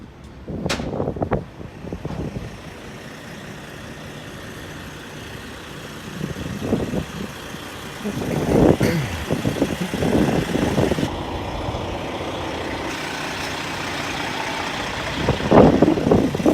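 Trucks idling at a North Dakota truck stop, a low steady engine rumble under gusty wind buffeting the microphone, with several louder rough bursts of motor noise.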